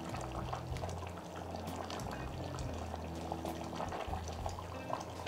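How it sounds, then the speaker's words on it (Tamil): Rice and water boiling in a cooker: a steady, continuous bubbling and simmering close by, with no voices. "பாருங்கள், நல்லா கொதிக்குது."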